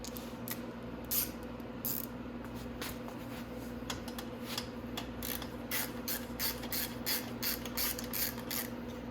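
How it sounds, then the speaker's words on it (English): Ratchet loosening a nut and bolts on the muffler of a Venom X22 125cc, giving repeated quick clicking strokes in irregular bursts over a low steady hum, close but fairly quiet. "I'm going to go ahead and take my nut off, and then I can just loosen my bolts off and get the muffler right out of the way."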